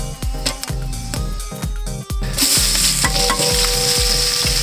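Garam masala, bay leaves and cinnamon sticks sizzle in ghee in a pot, with repeated sharp clinks of a spoon stirring against the metal, then a louder steady hiss of frying.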